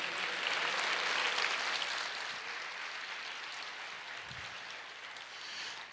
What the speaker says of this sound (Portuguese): Quantos podem aplaudir o Senhor e dizer: eu creio?